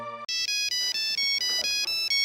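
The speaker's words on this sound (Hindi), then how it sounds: "फिर किसी ऑफिस वाले का फोन आ गया" A phone ringtone rings loudly and close, a repeating electronic melody of bright tones that starts abruptly after a brief low hum and runs steadily without any talk.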